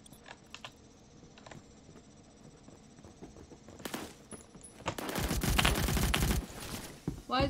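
Gunfire in the Roblox shooter Phantom Forces, sparse faint clicks at first, then a sharp report near four seconds and a dense loud burst of rapid shots in the last few seconds.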